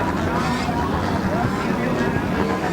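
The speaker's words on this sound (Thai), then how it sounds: "นี่เป็นเครื่องยนต์4 สูบนะครับ" Four-cylinder long-tail racing boat engine at the Ayutthaya long-tail boat race, a steady loud roar with wind and water rush and crowd babble throughout.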